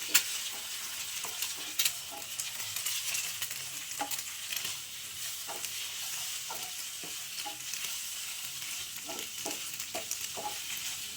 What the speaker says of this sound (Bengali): এখন ডিমটাকে ভেজে নেব